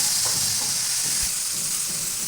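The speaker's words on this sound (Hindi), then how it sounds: "प्याज मैंने ऑयल में डाल दिया है। अब प्याज से ब्राउन करेंगे।" Onions frying in oil in a home kitchen hiss with a steady bright sizzle, with a few soft stirring knocks scattered through it and no talking.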